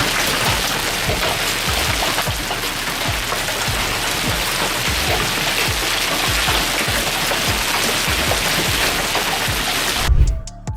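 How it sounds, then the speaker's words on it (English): Large, spiky hail pounds the roofs during a sudden hailstorm in Japan, a dense and continuous loud rattle broken by heavy, irregular thuds throughout. "Some videos of the incident captured the shocking effects of the occurring hailstorm, which almost sounded like one roof was taking heavy machine gun fire."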